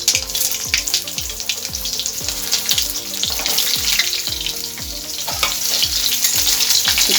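Whole bitter gourds (karela) sizzle loudly in hot oil with spices, and a utensil scrapes and stirs the pan in a regular rhythm of repeated strokes under the steady frying hiss.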